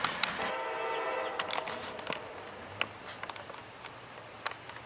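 A CSX, UP, CN or Amtrak freight or passenger train rolling past on the double-track main line at Folkston, Georgia, with steady rail rumble, wheel squeals and sharp clanks, fairly distant and low in level.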